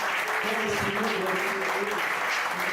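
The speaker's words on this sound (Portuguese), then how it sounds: "Você pode aplaudir ao nome do Senhor Jesus pela vida dos nossos irmãos." A church congregation applauds during a Portuguese-language consecration service, giving steady, sustained clapping from start to finish.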